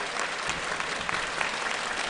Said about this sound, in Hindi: ताली ठोको हमारे सारे साइंटिस्टों के लिए